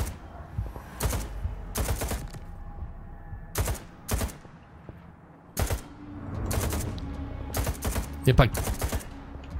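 Heavy-recoil gunfire rings out in S.T.A.L.K.E.R. 2, with loud, sharp shots fired singly and in short clusters at irregular intervals while a voice speaks briefly between them.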